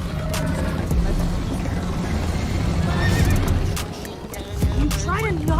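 A horse neighs in a video game during a chase scene, with a loud whinny near the end over continuous galloping clip-clop, rushing noise and background game sounds.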